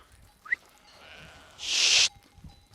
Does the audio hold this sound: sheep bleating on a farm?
yes